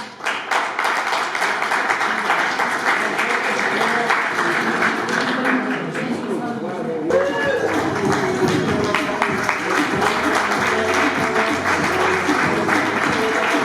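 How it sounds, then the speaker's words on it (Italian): Audience at an outdoor beauty pageant at a villa applauding, steady clapping from a modest crowd mixed with background music, continuing throughout at a moderate level. "Rivolgiamo loro un grande applauso."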